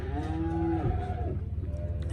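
Young calves moo loudly on a cattle farm during shipping, a long drawn-out bellow followed by lower, rougher lowing, close by with steady background noise.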